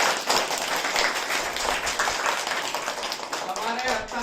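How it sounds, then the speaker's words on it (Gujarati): Children clap at a storytelling-competition award ceremony honoring young storytellers: a dense, steady patter of many hands running throughout, with voices talking over it. "ચાલો તાળીઓ પાડો."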